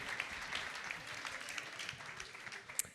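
Quiet, distant applause from an audience at an evening event, a soft, steady patter of clapping with a few brighter claps standing out.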